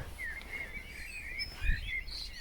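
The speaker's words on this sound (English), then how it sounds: "Some beautiful bird song. Sounds a bit like a blackbird to wake us up." Melodic blackbird song with warbling phrases, fairly faint against a quiet early-morning outdoor background, with a brief low thump partway through.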